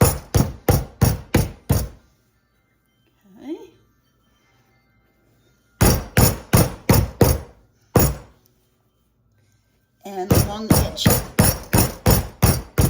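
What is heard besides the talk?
meat tenderizer pounding pork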